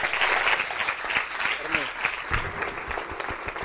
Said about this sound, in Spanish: con un aplauso sincero, con un aplauso abierto, con un aplauso fuerte en esta mañana